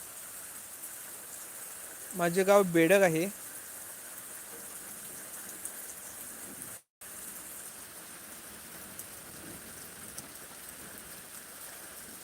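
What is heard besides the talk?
rain falling in Miraj, Sangli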